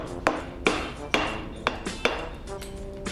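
A hammer strikes a tool into material during sculpting, six or seven sharp, ringing whacks spaced unevenly, close and fairly loud with no voices.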